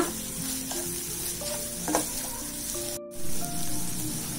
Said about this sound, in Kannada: ನೋಡಿ ಈ ತರ ಎಲ್ಲ ಚೆನ್ನಾಗಿ ಹುರ್ಕೋಬೇಕು ಮೊಟ್ಟೆನ